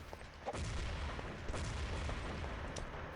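Grenade blast and gunfire in a competitive tactical shooter match, a sharp crack followed by dense, continuous loud rumbling bursts with a few more sharp reports.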